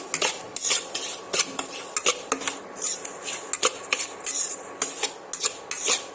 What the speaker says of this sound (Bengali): আবারও আমি সুজিটা আরও তিন মিনিটের মতন ভাজা করে নিচ্ছি